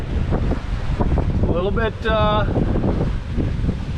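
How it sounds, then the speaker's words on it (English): Strong wind roars continuously across the microphone on a sailboat at sea, with a person briefly talking and whooping through the gusts. "that wind kicked on last night and it has not stopped"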